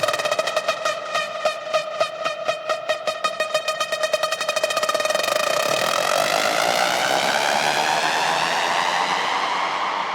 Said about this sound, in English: I use the lead as build-up effect.